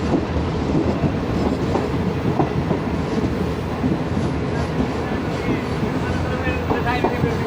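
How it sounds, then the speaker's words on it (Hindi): Awam Express passenger train rolling along rails at a steady roar, a continuous rumble with faint clickety-clack underneath, heard close from inside as it runs. "यहाँ पे स्टॉप होगा अवाम एक्सप्रेस का"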